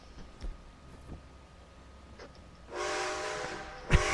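A train in the Western video game Red Dead Online rumbles faintly with scattered knocks, then a loud hissing, whistle-like blast swells and holds for the final second and a half.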